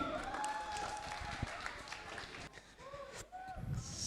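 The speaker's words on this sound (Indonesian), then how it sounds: "Tepuk tangan yang meriah untuk Dopi" Audience applause greets a comedian taking the stage at a stand-up comedy show, a soft continuous crowd clapping heard faintly and somewhat distant, with voices and room noise over it.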